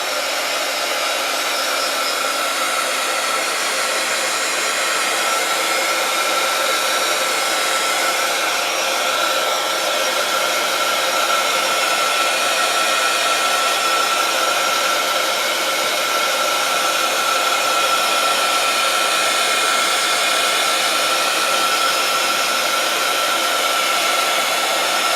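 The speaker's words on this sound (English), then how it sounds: "I'm going to use my heat gun to dry the gesso." A heat gun blows hot air onto gesso spread on a Bible page, producing a loud, steady whooshing roar that holds unchanged throughout.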